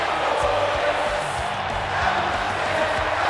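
A virtual arena crowd in the WWE 2K19 wrestling game keeps up a steady, dense roar with rhythmic chanting throughout, loud and continuous with no pauses.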